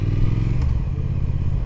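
A 2018 Triumph Thruxton R motorcycle rides along a London road, its engine a loud, steady low rumble heard up close, with one brief scrape partway through.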